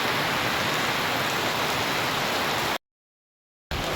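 Steady, dense rain hissing close by in Junagadh, broken by about a second of total silence before the downpour resumes.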